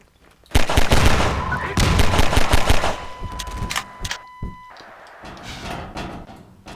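Pistol fire in Half-Life 2: Episode 2 comes as a loud burst of rapid shots, then scattered single cracks and mechanical clanks, with a faint tone running beneath.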